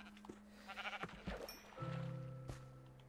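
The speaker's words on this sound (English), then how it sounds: "I'm gonna try and get 5 more sheep." Sheep bleating in the video game Minecraft, a couple of nasal baa calls with a longer wavering bleat near the middle, heard over quiet game ambience and clicks.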